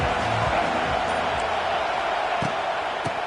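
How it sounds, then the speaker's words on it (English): Stadium crowd noise in a simulated football video game, a steady broadband roar of cheering that holds at a constant level throughout, with a couple of faint thumps near the end. "This crowd ready to make its presence known."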